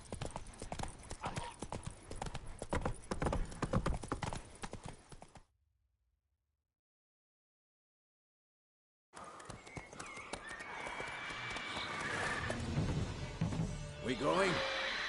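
Roach, a horse in a video game, trots with rapid, steady clip-clop hoofbeats. A stretch of silence breaks the sound midway, and then the hooves return with music and voices behind them.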